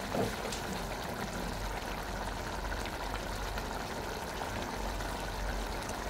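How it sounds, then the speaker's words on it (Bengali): Chili potato sauce boiling in a pan, a steady close bubbling and simmering hiss that holds even throughout with no talking. "তখন আমি এটা ফুটতে দিয়ে দেবো"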